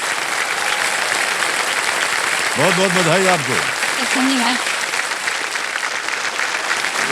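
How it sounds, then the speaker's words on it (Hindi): A studio audience on a TV quiz show keeps up continuous, steady applause while a voice speaks briefly over the clapping. "तालियां बजते रहे इनके लिए।"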